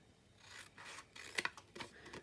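Several short rasping snips and scrapes, close and fairly quiet, with two sharper cuts near the middle, like scissors working through paper.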